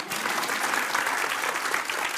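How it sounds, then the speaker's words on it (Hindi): Audience applause fills a hall during a discussion on Delhi's air pollution, a dense, steady wash of many hands clapping that holds at an even, loud level from start to finish with no voices. "हाँ ताली बजा सकते हैं।"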